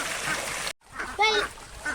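Pet ducks, including small Kuttanad ducks, bathing at home: a few nasal quacks up close after a brief gap, mixed with watery background noise and some talking.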